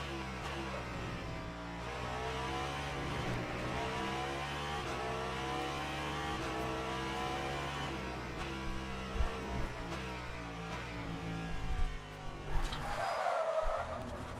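A race car in the Le Mans Ultimate sim racing game at Imola drives steadily with a droning engine. A burst of tyre skid and a few short knocks come late in the clip, all fairly quiet.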